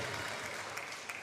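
A crowd applauds continuously at a table tennis Champions League Final Four match between KTS Enea Siarkopol Tarnobrzeg and Metz TT, a dense, steady wash of clapping heard from a distance at moderate level.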